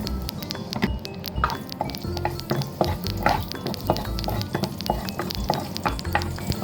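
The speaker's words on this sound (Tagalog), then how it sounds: "ang unahin natin igisa guys ay ito muna ang onion leek" Garlic and onion leek sautéing in a pan, with a busy, close sizzle and constant quick clinks and scrapes of a utensil stirring against the metal.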